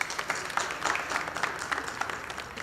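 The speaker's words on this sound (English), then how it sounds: "May we have a huge round of applause for our esteemed judges." Audience at a college annual film festival applauding the judges, with a moderate, steady patter of many hands clapping heard from within the hall.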